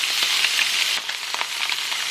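Rice hits a hot griddle with cooked scrambled eggs for homemade hibachi fried rice, giving a steady, bright sizzle with a few scraping stirs, close and fairly loud.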